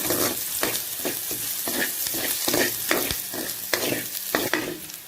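Chicken frying dry with fresh curry leaves in a pan, a steady close sizzle broken by repeated sharp scraping stirs at an irregular rhythm, with no talking.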